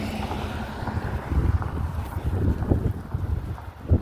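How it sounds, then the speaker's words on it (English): Gusty wind at a building restoration site, a loud, uneven low roar buffeting the microphone in surges. "So it's a pretty windy day."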